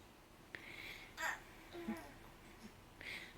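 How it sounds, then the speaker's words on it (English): A baby hiccups indoors, giving a few short, separate catches spread across a few seconds. Soft babbling and faint laughter mix in between the hiccups, all fairly quiet and close. "So these hiccups hurt."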